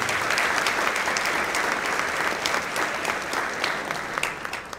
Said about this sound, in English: let's give him a great round of applause for being here